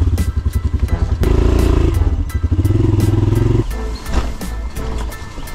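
A motorcycle engine idles and revs loudly up close on a road trip to Pereira, Colombia, its throaty pulsing rising and falling with a few sharp clanks.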